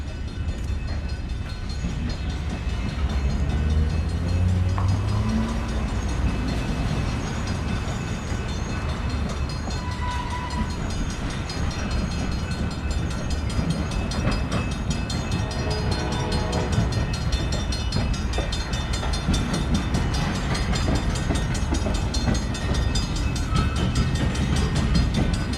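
A long freight train rolls past on a city rail line near Decatur and Canal Street in New Orleans, a steady, loud rumble of clattering wagons with a brief horn-like tone near the start, continuing without letup.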